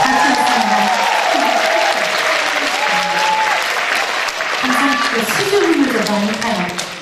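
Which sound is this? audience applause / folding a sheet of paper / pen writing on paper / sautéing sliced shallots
audience applause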